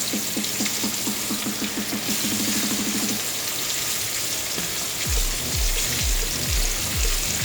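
Onions fry in a pan with breaded chicken, giving a steady close sizzle with quick rhythmic crackles early on, followed by a few deeper stirring or shifting sounds in the pan.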